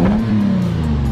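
Toyota 4Runner fitted with a TRD intake and exhaust revs hard up close, a loud, steady throaty engine drone held through the whole burst.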